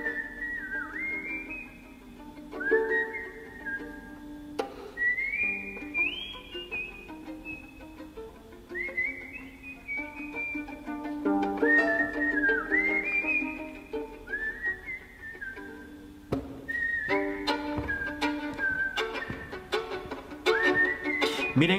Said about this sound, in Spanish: ¿a quién se le ocurre silbar en una cadencia?